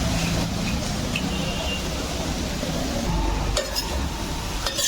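Grated coconut is stirred in a pan on the stove, giving a steady soft scraping with faint sizzling and a few light metallic clinks of the spoon against the pan.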